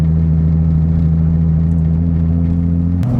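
A manual car's engine drones loud and steady from inside the cabin, then its pitch drops abruptly near the end as if shifting.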